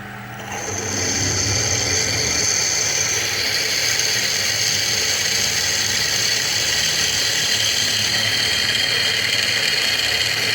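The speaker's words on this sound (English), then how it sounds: "We're going to go ahead and drill the holes." A power drill whines steadily at high speed, a loud continuous mechanical buzz that starts abruptly and holds for several seconds.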